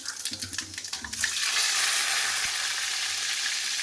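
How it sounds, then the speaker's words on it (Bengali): Whole spices drop into hot oil for a cabbage curry and baby potato dish, first with a few clicks and soft stirring, then bursting into a loud, steady sizzle that holds to the end. "তেলের উপরে ফোড়ন দিয়ে দিলাম"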